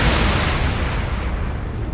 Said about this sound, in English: Not surprisingly, causing massive explosions.